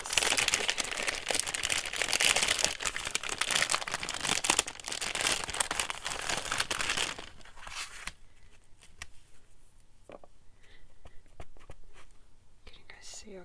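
Sheets of packing paper crinkle and crumple close by in a dense, continuous rustle during a craft session, then drop to quieter scattered rustles and taps while someone whispers throughout.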